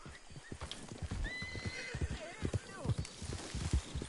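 A horse in Red Dead Redemption 2 Online whinnies with rising and falling neighs over the clip-clop of hooves and some low snorting, fairly close.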